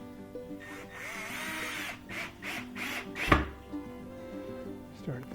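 A power drill drives screws into a panel of a chicken coop kit in a few short whirring bursts, with a sharp clack and quiet handling noises between them.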